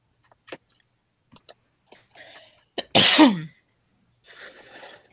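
A sharp sneeze bursts out mid-clip, preceded by a few small clicks and breaths, followed by quieter rustling.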